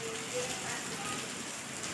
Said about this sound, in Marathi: सकाळमध्ये पाऊस चालू झालाय